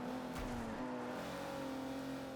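A 5-liter V12 car engine revs in Forza Horizon 2, holding a steady loud drone with a brief rising swell early on and no talk over it.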